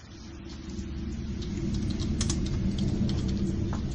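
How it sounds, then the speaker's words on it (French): Steady typing on a computer keyboard, with rapid clustered key clicks over a low constant rumble of room or machine noise, close and moderately loud with no voices. "On peut également voir ce qu'elle est en train de taper sur son clavier."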